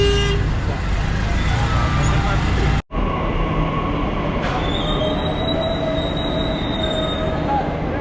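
A Delhi Metro train runs steadily from near Qutub Minar toward Red Fort, a continuous rumbling roar with high wheel squeal, a brief dropout near three seconds, then a long sustained whine over the rolling noise.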